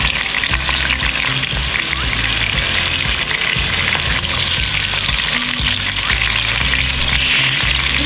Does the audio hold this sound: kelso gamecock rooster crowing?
no